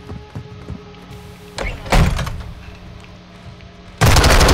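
Gunfire in the Modern Warfare II campaign: a few scattered thuds and sharp shots early, then an abrupt, loud, continuous burst at the end, close and dense, with no talking.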